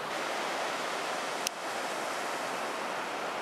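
Pacific Ocean surf rolls in on the beach at Crescent City in Northwest California, a steady broadband wash of breaking waves with wind. A single sharp click cuts through midway.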